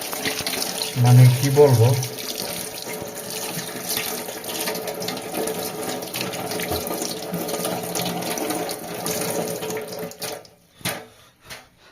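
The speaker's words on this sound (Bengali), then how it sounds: "হাত ধোয়া শেষ" Water runs steadily from a tap into a sink during handwashing, a continuous hiss lasting most of the span before stopping near the end. A voice talks over it at the start.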